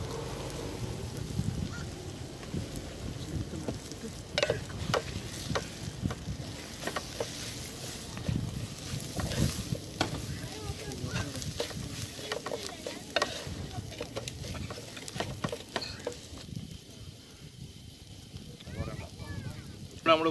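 Kerala-style crab curry masala with Kashmiri chilli sizzles in hot coconut oil over an outdoor fire, a steady frying hiss with scraping stirs and clinks throughout, fairly close.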